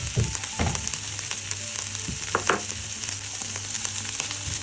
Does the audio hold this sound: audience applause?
no